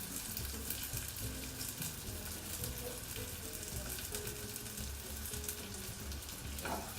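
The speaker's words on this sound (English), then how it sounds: "It's something about frying onions and chili that makes me happy." Onions and chilies frying in a pan, a steady close sizzle and crackle that continues throughout with occasional stirring.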